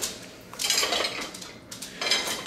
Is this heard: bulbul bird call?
no